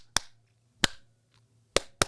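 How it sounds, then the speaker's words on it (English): Four sharp, isolated hand claps, spaced unevenly and slowing slightly, each crisp and close with a short ring-off over a quiet background hum. "he's tried to do the clap"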